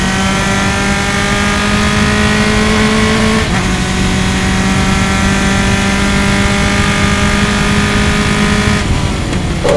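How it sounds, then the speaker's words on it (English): Loud, continuous roar of formula racing car engines at high revs during an SCCA race at Gingerman Raceway, with a brief gear-shift dip partway through and steady engine howl throughout. "Glorious noises, hearing proper racing engines again."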